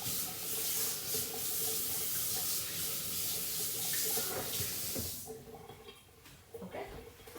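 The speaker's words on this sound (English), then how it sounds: "I'm going to just rinse the spatula right quick." Tap water runs into a kitchen sink as a spatula is rinsed off during cake baking, a steady close hiss and splash for about five seconds that then cuts off, leaving faint clinks and quieter room sound.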